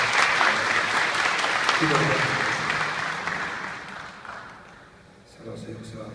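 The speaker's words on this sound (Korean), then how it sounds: "여러분 그의 박수로 환영합니다." A church congregation at a Sunday evening service applauds in a dense, sustained burst of clapping that fades gradually, while someone speaks over it and then begins a prayer.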